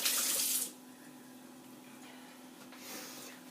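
A kitchen tap runs as apricot filling is rinsed off hands while making cold dough cookies: a strong gush of water at the start, then quiet, then a softer stream near the end.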